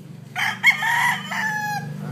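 A rooster crows in one long, loud call among chickens that cluck close by, with a steady low hum of the farm underneath.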